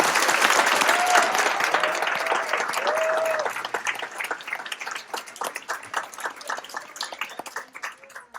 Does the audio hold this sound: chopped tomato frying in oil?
no